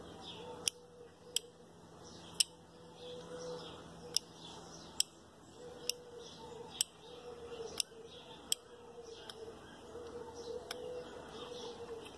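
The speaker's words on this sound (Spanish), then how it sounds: "está sonando unas veces y otras veces no suena. Este relevador se está quedando pegado." A sticking car relay gives sharp mechanical clicks at uneven intervals, some gaps longer than others, over a steady low hum and faint background noise.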